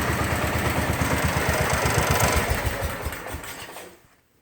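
A 1970 John Deere 120 garden tractor engine runs smoothly at a steady, rapid chug close by, then shuts off and fades to silence near the end.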